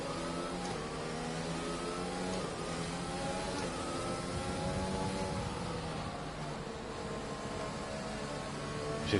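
F1 car in the racing game F1 2020, engine note rising steadily as it heads into turn 1 heavy with fuel, a loud sustained whine with climbing harmonics and no talking.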